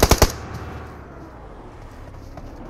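Three quick loud gunshots in a video game, fired at a gas can, followed by a fading reverberant tail and low background rumble.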